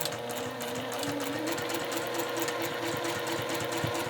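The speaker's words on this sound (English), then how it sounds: "And sew it down without that in the way." A sewing machine stitches fabric for a retreat bag, a close steady whirring hum with rapid needle clatter running continuously throughout.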